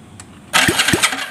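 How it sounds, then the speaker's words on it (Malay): A motorcycle engine with a non-spinning oil pump is started with the electric starter: after a quiet half second, a loud, near starter crank and rough running engine noise come in, with two low thumps, and no talk over it. "motor ni ada starter, so kita boleh start"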